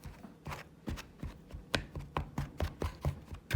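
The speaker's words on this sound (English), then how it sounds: "I'm just going to blend in my shortening until it comes to little pea-sized pieces" Rhythmic dull thuds of a pastry blender cutting shortening into pea-sized pieces in a bowl for homemade bread dough, about a dozen regular strokes getting quicker, close up.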